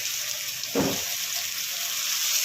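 Chopped tomatoes tip into onions frying in a pan, giving a sudden burst of sizzle and spatter near the start, then settling back into a steady hiss of oil with no one talking.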